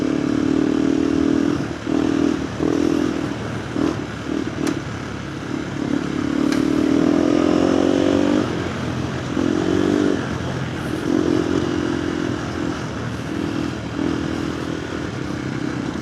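KTM 390 Adventure R motorcycle with a Norifumi Whoops exhaust on a group road ride, its engine droning close and loud through gear changes, with throttle rises and dips and steady wind.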